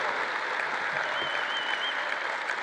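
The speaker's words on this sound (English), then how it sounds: "Let's give that a real big round of applause." Steady applause from a large crowd at a celebration of life for hockey goaltender Bernie Parent, an even, sustained roar of clapping heard from a distance without any talk.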